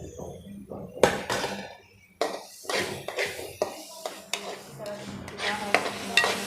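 A masala with whole green chillies is stirred and fried in a pan for lauki kofta, with a steady sizzle broken by repeated scraping strokes of a spoon against the metal.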